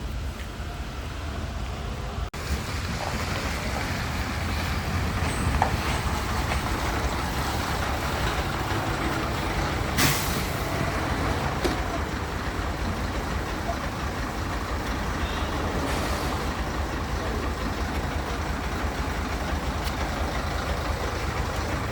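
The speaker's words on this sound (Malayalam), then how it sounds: "ലോറി യാത്ര ഇതാ വെയിറ്റ് വെക്കുന്നതാണ് നമ്മുടെ ലോറി" A lorry engine idles while the truck waits to set off on a trip toward Karnataka. It gives a steady, close rumble for the whole stretch, with a few brief knocks and rattles and no voices.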